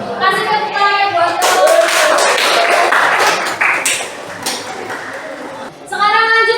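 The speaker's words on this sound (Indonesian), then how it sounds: "Kasih tepuk buat" A classroom audience at an Indonesian university group presentation claps together in a dense burst of applause lasting several seconds, bracketed by a presenter's speech before and after.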